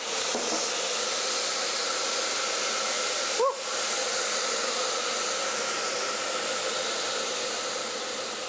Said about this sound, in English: It's proper steaming up, so just cooling down the pot a little bit.